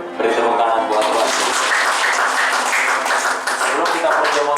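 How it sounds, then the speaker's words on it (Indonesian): Church congregation applauding during a Sunday worship service, dense clapping and crowd noise filling the space, with voices mixed in over the top. "beri tepuk tangan buat Tuhan"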